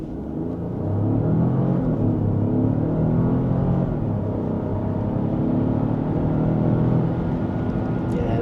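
Peugeot 5008 1.2T hybrid pulling downhill in sport mode, a steady in-cabin engine drone and road rumble that swells slightly with acceleration, close and continuous.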